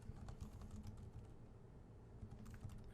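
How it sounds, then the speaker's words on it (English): Typing on a computer keyboard while entering math in Maple 2020 software, a steady rapid patter of key clicks running throughout, fairly quiet, with no talking. "we'll type in a bit more math here"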